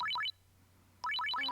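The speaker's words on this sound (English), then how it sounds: "The sound of a ringing phone cut her off." Electronic ringtone of a phone in the visual novel Steins;Gate 0, rapid rising chirp trills in two bursts separated by a short pause, clear and fairly close.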